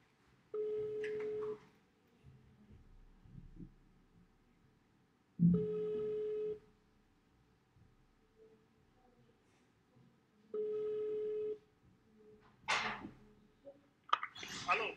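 A telephone call rings out on the line: three steady ringback tones, each about a second long and spaced roughly five seconds apart, over quiet background hiss, followed by brief clicks and handling noises at the end.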